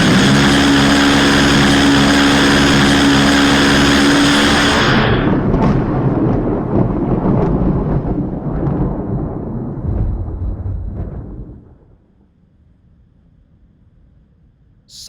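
A cannon gun fires with a huge roaring blast that rumbles like thunder and slowly dies away over about ten seconds before fading to quiet.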